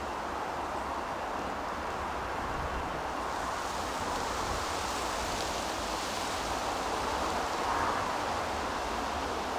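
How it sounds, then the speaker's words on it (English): Wind blows over a handheld microphone fitted with a fluffy deadcat windshield, producing a soft, steady, broadband rush with no buffeting bursts and no voices. "you can hear the noise of a wind without necessarily it being the noise that you get when you blow into a microphone"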